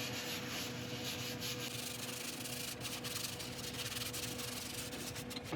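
Steady, continuous abrasive rubbing as a spinning resin woodturning piece on a lathe is sanded with abrasive paste toward a 1000-grit finish, a dense hissing scrape held at constant loudness throughout, close up and alone.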